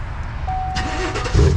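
A 2019 Chevrolet Silverado pickup, recently repaired after an accident, starts up in a parking lot, the engine catching and rising to a brief low rumble that is close and moderately loud.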